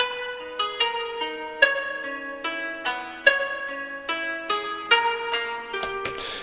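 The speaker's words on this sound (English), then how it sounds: "I added this ARP one shot layered with this contact instrument" A plucked synth arpeggio one-shot layered with a melodic plucked koto pattern from Ethno World 6, bright repeating notes in a steady rhythm, up close with no voices.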